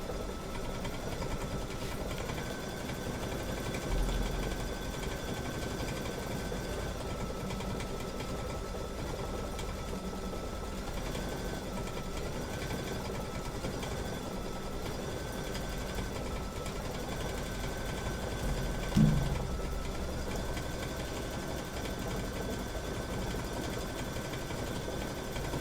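A quilting sewing machine set to 700 stitches per minute runs in a steady, continuous mechanical hum with a faint whir, alone and fairly quiet, with one brief clunk near the end.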